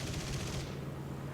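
A MiG-3 fighter fires its machine guns in War Thunder, a short dense rattling burst that cuts off partway through, leaving the steady engine drone.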